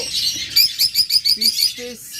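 Pet birds in a shop selling lovebirds, cockatiels and budgerigars give a run of sharp, close chirps in quick succession, then a few lower calls near the end, over a soft background.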